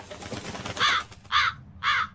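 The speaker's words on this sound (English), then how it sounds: "Crow just flew off with the coin." Crows caw three times in the video game Tales of Berseria, harsh evenly spaced calls that sound close and clear after a brief rustle.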